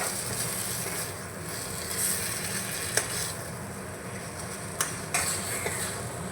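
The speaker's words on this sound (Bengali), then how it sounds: "মিশিয়ে নিচ্ছি ভালো করে" A potato filling, sharpened with gondhoraj lime juice, fried in a pan as a steady, close sizzle and hiss, with a few sharp clicks and scrapes of stirring against the metal.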